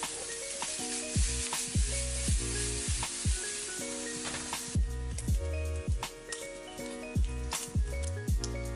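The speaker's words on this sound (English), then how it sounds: "We're going to add some bacon to this hot pan and let that render down and get really" Bacon renders in a hot pan with a bright, continuous crackling sizzle, close and steady, while rhythmic thumps and tapping sounds recur over it throughout; no one speaks.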